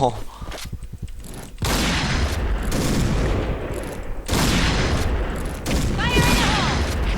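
Gunfire in the online shooter Point Blank (PB Garena) crackles in dense, loud bursts separated by brief lulls, with game effects layered in and a voice talking over parts of the action.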